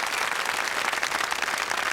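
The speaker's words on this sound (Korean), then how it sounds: "위치로 박수 보내주세요." A military unit audience in a Korean TV barracks show applauds, a dense, steady wash of clapping sustained at even loudness for the full two seconds with no voices over it.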